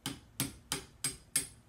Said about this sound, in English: give it a couple of light taps